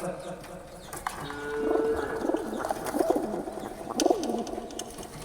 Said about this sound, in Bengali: বাচ্চা কবুতর